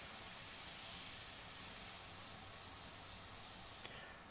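An airbrush sprays paint on a custom aviator skull piece, a close, steady hiss of air and mist that keeps going without a break, then drops away at the very end, with no voices.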